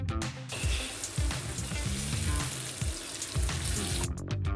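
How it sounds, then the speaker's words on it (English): Chopped onion and grated carrot sautéing in heated oil, a dense, close, steady sizzle with faint stirring movement, loud and unbroken for several seconds. "in heated oil, I sauté the chopped onion and the grated carrot."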